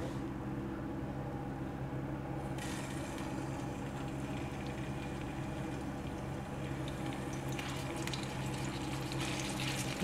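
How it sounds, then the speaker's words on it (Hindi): Chicken reshmi kebabs frying over low heat in oil in a frying pan, giving a steady, continuous sizzle with a soft hiss that brightens partway through and again near the end. "पहले हल्की आँच पे इनको हम फ्राई करेंगे"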